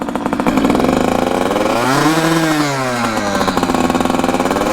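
A gas-powered Surron dirt bike's two-stroke-style engine buzzes loud and close, revving up and easing down in a rising-falling sweep on its first ride, with a rapid pulsing rattle and no talking.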